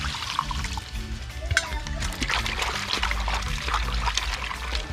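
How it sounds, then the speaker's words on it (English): Water splashes and trickles steadily into containers set up for washing raw cow-head meat outdoors at a big cookout, with steady background noise and some faint voices. "Gonna use some water in both containers."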